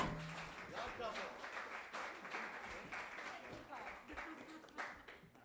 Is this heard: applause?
yes